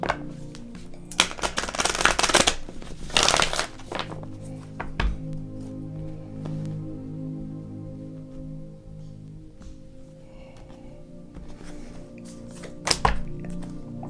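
Tarot cards are shuffled and drawn, with loud riffling bursts and thumps near the start and then quieter taps and card handling over a steady low hum, plus another sharp shuffle toward the end.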